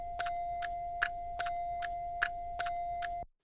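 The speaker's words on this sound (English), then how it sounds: "And here I have post-it notes that I just made a little rhythm out of." A steady series of light, dry taps on post-it notes in an even rhythm over a low sustained hum, stopping abruptly.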